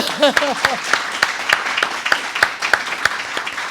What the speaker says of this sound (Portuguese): Se você não aplaudiu, eu vou aplaudir sozinho.